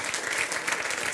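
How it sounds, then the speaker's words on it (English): An audience at an ocean and climate event applauds, a steady wash of many hands clapping at moderate distance for about a second, without speech. "Clap to him."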